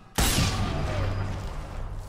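A single sharp gunshot in the video game Sniper Elite 4 cracks out suddenly and loudly, followed by a long low rumbling tail that decays slowly.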